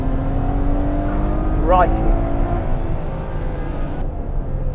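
Ferrari 812 Superfast V12 engine pulling hard under load while driving, a loud continuous drone with a sweeping rise in pitch midway, heard inside the cabin with a man exclaiming over it.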